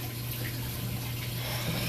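Water rushing backwards through a drain pipe at a pitched Y fitting makes a steady, dense hiss and gurgle with a low hum underneath, close and constant throughout.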